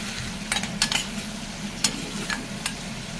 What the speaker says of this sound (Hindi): ये फ्राई होने देते हैं